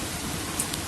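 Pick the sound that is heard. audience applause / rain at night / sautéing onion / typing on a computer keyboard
rain at night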